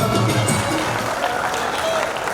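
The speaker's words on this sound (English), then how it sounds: "Let's give a big round of applause to all these volunteers." Audience applause at a community Bhagvat Saptah gathering in Edison, New Jersey, a steady dense wash of clapping that holds at an even level throughout, with some crowd murmur mixed in.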